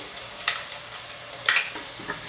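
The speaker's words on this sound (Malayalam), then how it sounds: "ഒന്ന് വഴറ്റി കൊടുക്കാം" Onions sautéing in a pan with green chilli, ginger and garlic paste: a quiet, steady sizzle broken by a few sharp stirring scrapes, no voices.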